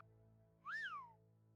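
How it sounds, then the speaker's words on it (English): A single rising-then-falling whistle from a character in Morrowind, heard alone over a quiet ambient game background, lasting under a second. "I heard you whistle."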